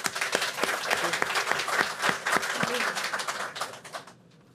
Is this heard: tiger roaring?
no